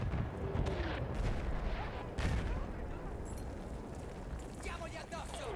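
Artillery shelling in the video game Battlefield 1: repeated heavy booms and distant explosions rumble through a noisy battlefield soundscape, with someone talking over the bombardment.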